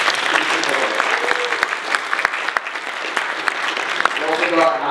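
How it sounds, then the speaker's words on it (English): Applause from a conference audience for the event sponsors, dense steady clapping filling the room for several seconds without a break. "So a little round of applause for those"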